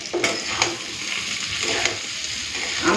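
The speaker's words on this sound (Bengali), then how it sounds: "চালটাকে ভালো করে ভেজে নেব।" Gobindobhog rice frying in a pan with cashews and raisins, a steady close sizzle with a few scraping stirs throughout.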